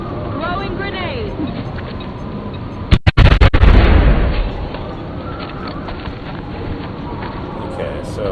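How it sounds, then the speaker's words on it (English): In XCOM Enemy Within, a thrown grenade goes off with a sharp, loud burst of crackling blasts and a deep rumble that fades over about a second, framed by quieter game ambience and faint background sounds. "Throwing grenade."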